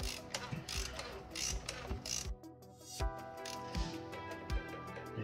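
A ratchet tightens a bolt during a service on a 2nd-generation Citroën Berlingo 1.6 HDi, giving a rapid run of close, crisp clicks with a brief pause partway through, quiet overall and without talk.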